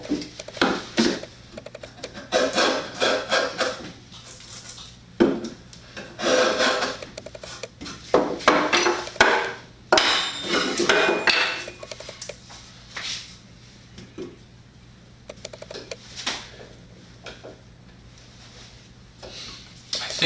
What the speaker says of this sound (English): With these mortises being so long, coming in here with a paring chisel like this is definitely going to help